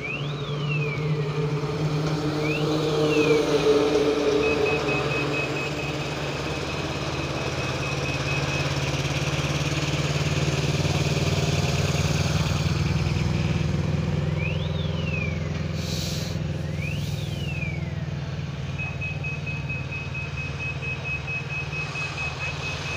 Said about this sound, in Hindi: देखिए स्पेशल डाल के काला धुआं मारती हुई गाड़ी उठाई